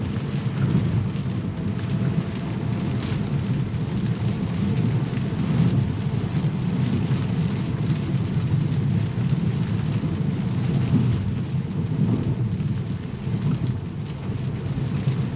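Rain falls steadily on a Tesla driving with FSD Beta 10.3.1 on California roads, a constant broadband hiss and rumble of rain and road noise with no talk.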